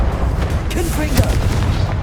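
A Confringo blast spell bursts in Hogwarts Legacy on PS5, a loud booming explosion amid dense game combat noise, with a brief voice underneath.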